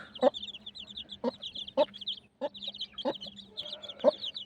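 Chickens cluck in a steady series of short, close calls, repeating every second or so against a quiet background.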